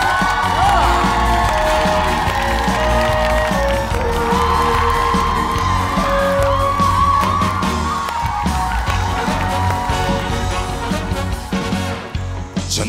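TV trot music show audience applauding and cheering, a loud continuous wash of crowd whoops and clapping layered over a band playing the song's intro.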